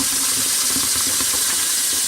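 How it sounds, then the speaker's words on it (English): Water pours steadily into an essential oil air still, roughly two liters, giving a continuous hissing, splashing rush that stays loud and even throughout with no talk. "So I'm going to add 2 liters of water to this."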